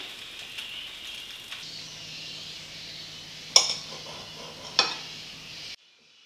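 Food sizzles steadily in a frying pan, then two sharp metallic clinks ring out about a second apart as a utensil flips it to cook the other side, before the sound cuts off.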